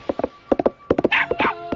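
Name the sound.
horse hooves clip-clopping in an animated Barbie Dreamtopia movie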